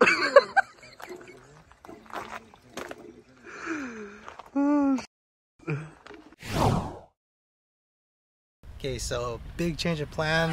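A single loud, sharp sneeze bursts out mid-conversation at a forest campsite, followed by a pause and then more talking.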